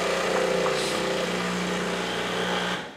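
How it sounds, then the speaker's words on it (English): Breville espresso machine priming its pump from the rear water tank, a steady droning hum with a low motor tone that runs unbroken for about three seconds before cutting off. "That sound was priming the pump because there's a water tank in back"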